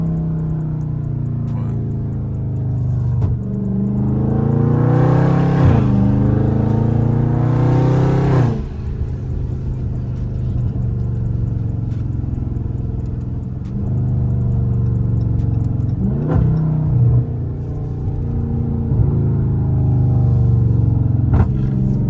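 Dodge Charger Scat Pack V8 engine and exhaust on a night drive without a burble tune, a steady low rumble from inside the car, swelling twice into loud revving pulls before settling back to cruising drone.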